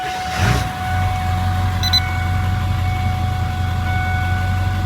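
A 7.3 Powerstroke diesel truck engine cranks over briefly and catches, then settles into a steady, loud, low idle that continues alone with no talk.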